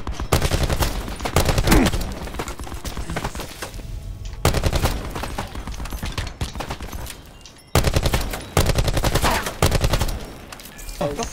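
Rapid automatic gunfire from hip-firing in Black Ops 4, loud and close, in long sustained bursts broken by brief pauses, with faint voices underneath.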